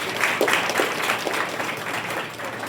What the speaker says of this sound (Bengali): এটা জোরে হাততালি।